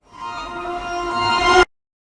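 Two Labs strings patches full of white noise, processed with Little Altar Boy, sound together as a sustained, hissy string pad that rises gradually in loudness and then stops dead after about a second and a half.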